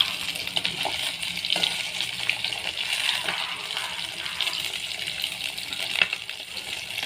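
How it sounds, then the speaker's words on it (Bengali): Rohu fish pieces fry in hot oil over a wood fire, a close, steady sizzle with bright popping spatters and crackles scattered throughout, no voices present. "এই যে মাছগুলো ভাজা হচ্ছে"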